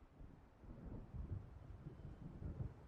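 Low distant thunder rumbles from an approaching storm in Alan Wake, a steady deep roll with swelling surges under wind, no voices.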